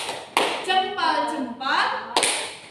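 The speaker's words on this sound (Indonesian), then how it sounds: "Yuk anak-anak kita kasih tepuk salut" Children perform a rhythmic clapping chant in a classroom, with sharp claps at the start and end framing a short sung call in young voices.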